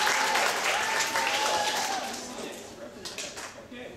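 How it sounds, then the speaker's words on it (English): An audience at a science presentation claps and cheers loudly, a dense burst of applause with whoops and shouts that gradually tapers off. "I was hoping you would clap and make lots of noise."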